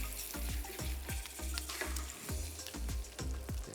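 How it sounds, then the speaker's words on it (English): Okra sizzles in a pan with dry mango powder while a spoon stirs it in steady rhythmic scrapes, about two strokes a second, loud and close over continuous frying crackle. "Okay, give it a good stir again."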